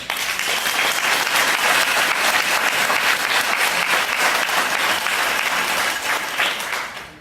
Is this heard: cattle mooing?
no